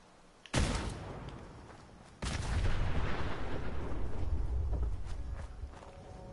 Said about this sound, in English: you want to see how powerful the Gauss rifle is?